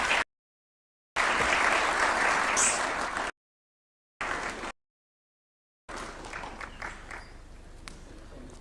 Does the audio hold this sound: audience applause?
yes